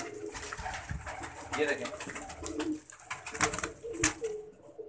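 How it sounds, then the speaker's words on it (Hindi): Many pigeons cooing inside a loft, overlapping low coos with fluttering and rustling, a voice talking over them nearby. "कबूतर तो बहुत है ना अंदर"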